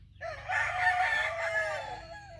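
A backyard rooster, a young cross-bred bird, gives a single clear crow lasting about two seconds, fairly close and moderately loud, rising then trailing off with no talking over it.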